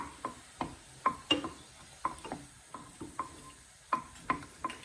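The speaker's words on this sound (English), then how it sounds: "I'm now going to add the tomatoes. We want them to get quite mushy." Tomatoes being stirred in a pan for a prawn, tomato and olive broth: a steady series of soft scraping and tapping stir strokes with a faint sizzle, close and quiet.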